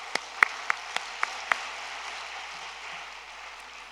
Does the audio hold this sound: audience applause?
yes